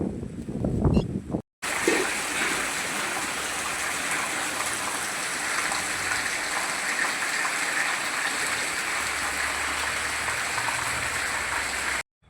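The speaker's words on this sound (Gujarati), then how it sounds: "હાલો વરસાદ આવી ગયેલો" Heavy rain falls in a steady, even wash of noise after a brief louder burst at the start, with no talking.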